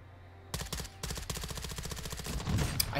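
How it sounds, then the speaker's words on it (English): Gunfire in Warzone 2, Modern Warfare 2, breaks out suddenly as rapid automatic bursts with closely spaced loud shots, then continues into a heavier thump near the end. "I hear so many shots, bro,"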